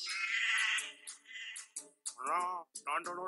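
A few wavering, nasal sheep bleats sound in short bursts after a stretch of noisy rustling, fairly close and loud.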